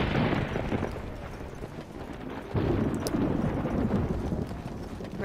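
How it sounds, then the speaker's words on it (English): A thunderstorm in the video game Dragon Age: Origins rumbles as a dense, continuous low roar that swells louder midway, with rain-like noise filling the background and faint scattered crackles above it. "Random storm for effect."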